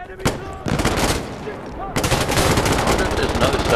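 Rapid machine gun fire from a box-magazine weapon in the shooter game Insurgency Sandstorm, a loud dense burst that stutters briefly, then resumes as sustained continuous automatic fire with scattered other gunfire around it.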